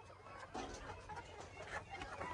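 Hens on a small poultry farm clucking at a low level, a few short broken calls over faint background noise, no clear speech.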